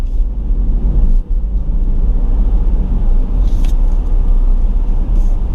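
A 2020 Dodge Durango R/T Blacktop cruises on the highway, filling the cabin with a steady, heavy low road rumble and tire drone, no voices.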